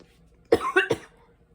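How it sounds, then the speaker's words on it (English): A short burst of coughing, two or three quick, close hacks in a row, in an otherwise quiet room. "I'm not sick, I just got a cough in my throat."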